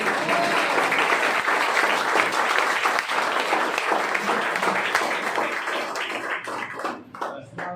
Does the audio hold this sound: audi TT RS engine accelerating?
no